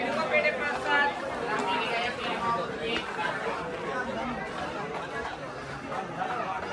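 Devotees crowd the Ekvira temple grounds at night, their mingled voices making a continuous, even murmur of chatter nearby with no single speaker standing out.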